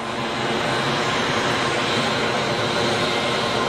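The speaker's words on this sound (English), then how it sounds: "Bombardier Challenger 300 to Figari, taxiing for departure" A Bombardier Challenger 300 business jet taxis for departure at Geneva Airport, its engines giving a steady, loud, unbroken roar and hiss with no pauses.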